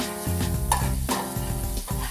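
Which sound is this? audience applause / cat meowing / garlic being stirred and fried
garlic being stirred and fried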